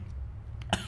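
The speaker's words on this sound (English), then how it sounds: "Sorry, I still have a cough." A single short, sharp cough near the end after a quiet stretch with a faint throat noise, close to the microphone and alone.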